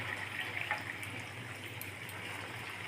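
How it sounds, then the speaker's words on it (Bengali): A cup of water pours into chicken mixed with spices, a soft, steady, faint splashing hiss that lasts a few seconds. "এখন কাপ জল দিয়ে দিব।"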